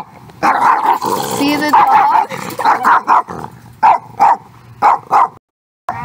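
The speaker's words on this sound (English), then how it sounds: "sorry about the dog noises," A neighbour's dog barks repeatedly in short bursts nearby, overlapping with people talking indoors, then a few louder isolated barks toward the end.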